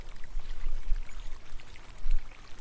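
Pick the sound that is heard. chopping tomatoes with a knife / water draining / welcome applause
water draining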